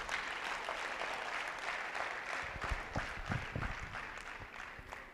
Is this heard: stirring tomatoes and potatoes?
no